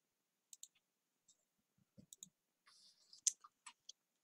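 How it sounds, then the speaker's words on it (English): Scattered sharp computer mouse clicks sound at close range during a tabletop Pokémon role-playing game session, falling in small irregular bursts with quiet gaps between them. "I hear you clicking over there, Mr. Clicky Clicky"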